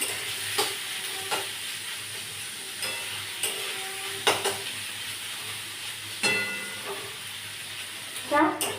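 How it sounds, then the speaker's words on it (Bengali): Onions fry in a pan with a soft, steady sizzle, broken by occasional spoon scrapes and clinks, close by. "পেঁয়াজটা ভাজা হোক হালকা।"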